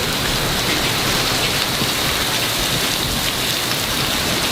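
Heavy rain pours in a dense, steady hiss during a thunderstorm, loud and close throughout with no distinct thunderclap, and no one speaks.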